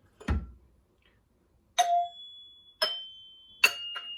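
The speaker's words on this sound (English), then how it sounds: "this little plastic thing hits the actual bottom of the chime like this" Chimes of a Gottlieb electromechanical pinball machine, Outer Space model, struck by a coil-driven plastic plunger: three clear metallic dings of slightly different pitch ring out alone after an opening knock, each sustaining briefly.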